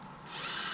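A power drill whirs steadily at close range, winding galvanized wire, its high-pitched motor spinning up briefly and then holding a constant whine.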